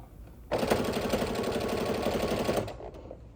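A sewing machine stitches down quilt binding in one steady, rapid run of about two seconds, close and loud, then stops, with no talking.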